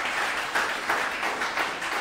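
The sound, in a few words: audience applause in church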